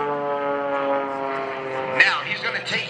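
An aerobatic propeller airplane drones overhead at a 2011 Blue Angels homecoming airshow, a steady engine tone rising and shifting during a maneuver as an announcer talks over it.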